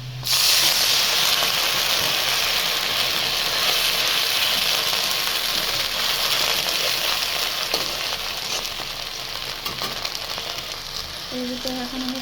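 Water hits a pan of frying onions and garlic in mustard oil, bursting into a loud, sudden hiss of steam that holds steady, then slowly softens as the sizzle settles, heard up close.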